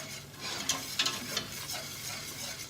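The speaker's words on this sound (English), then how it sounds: "I always use my whisk, just so it doesn't go too lumpy" A whisk works flour into melted butter in a pan, giving a soft, steady swishing and scraping with faint sizzling and a few light taps against the metal, quiet and close.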